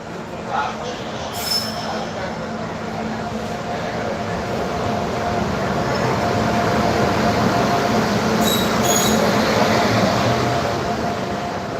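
A train rolls past, with a steady rumbling of wheels on rails that builds over several seconds and brief high squeals of wheels near the start and again later.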